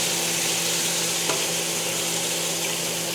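A steak fries in a pan while being basted, a loud, dense, unbroken sizzle close up with a brief scrape partway through.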